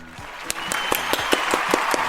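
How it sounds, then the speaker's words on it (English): A small group claps in a round of applause at a New Year's Eve awards show, a few distinct claps spaced fairly regularly under a faint murmur of talk. "Everybody, round of applause."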